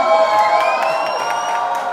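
Young audience at a Bollywood promotional event for the film Antim with Aayush Sharma and Mahima Makwana, loudly screaming and cheering together in a steady, sustained roar with high whoops on top.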